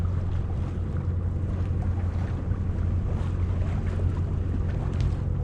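A low, steady engine drone from a nearby motorboat towing a child on an inflatable hums beneath wind and water noise, holding close and even throughout.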